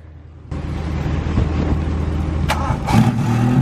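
A worn beater car's engine starting with the clutch pushed in after repairs, a quiet hum followed by a sudden catch into a loud, steady running idle close by, with brief sharp knocks and a rise near the end.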